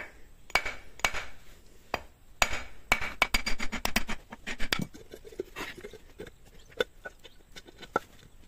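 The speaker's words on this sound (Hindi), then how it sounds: "यहां से थोड़ा थोड़ा सा ठोक लगाएंगे तो निकल जाएगा" Metal tools tap and knock on an electric motor to free its bushing part, giving sharp metallic clinks, first spaced, then a quick cluster of rapid hits, followed by scattered softer taps, close by with no talk.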